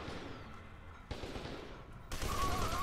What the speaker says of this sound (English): How are you shooting me through the freaking wall?